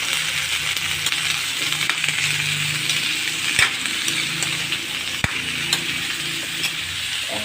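String beans and squash sizzle in a pan over browned garlic and onion, stirred with a utensil that scrapes and clinks against the pan now and then over a steady frying hiss, close up and without talk.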